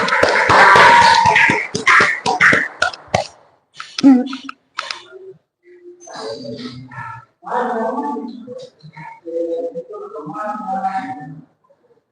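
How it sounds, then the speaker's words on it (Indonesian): Classroom applause for a student group, a burst of loud, rapid clapping from many hands for about three seconds, followed by a teacher speaking. "Beri aplaus dulu untuk kelompok 1"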